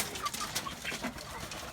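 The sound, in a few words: free-range chickens clucking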